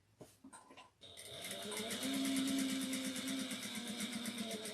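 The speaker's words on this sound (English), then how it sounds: "Back stitching really well." A sewing machine back stitches a Marzia bucket bag, running close up with a fast steady rhythmic needle clatter over a motor hum. It starts after a second of handling noises and a few faint spoken words.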